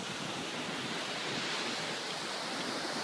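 Ocean surf washes steadily onto Yuigahama beach in Kamakura, a constant loud hiss of breaking waves mixed with wind and no voices.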